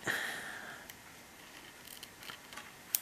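Scissors cut paper while a gift card pouch is being made: a few faint, sparse snips spaced across a quiet room, with no talking.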